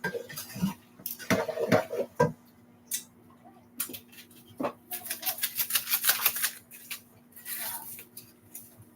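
A bag of cheese sauce is stirred in a kitchen, giving scattered bursts of clicking and scraping with brief pauses between them, fairly close and moderately quiet.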